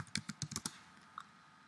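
Quick bursts of keystrokes on a computer keyboard, about six crisp clicks in a rapid cluster followed by one lone tap after a pause, fairly quiet and close, with no talking.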